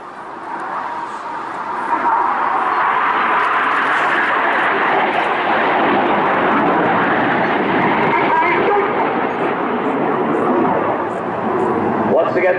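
Red Arrows jets fly the Cyclone manoeuvre at an air festival in Bournemouth, making a loud, sustained roaring rush that swells and holds across the whole stretch.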